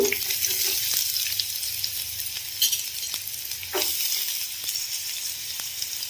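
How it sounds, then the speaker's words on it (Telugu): Onion and green chilli fry in a pan for an ivy gourd curry with a steady, bright sizzle throughout. A few soft clicks of stirring break the hiss now and then. "ఇవి మంచిగా కలర్ వచ్చేంత వరకు వేయించుకోవాలి"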